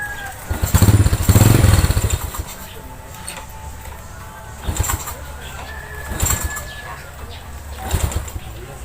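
An old multicab engine with a carburetor in need of cleaning is cranked in a workshop, giving a few short, loud bursts separated by quieter gaps without catching, while a voice talks nearby.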